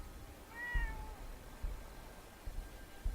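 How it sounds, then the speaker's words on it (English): A cat named Ashes in the video game Fallout 4 VR gives a single short, clear meow, fairly quiet over a faint low background rumble. "Alright, follow the cat."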